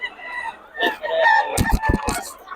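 A Sweater Gilmore bloodline gamecock crows loud and close, a harsh drawn-out call that breaks into several throaty pulses near the end, with faint talk behind it at the start.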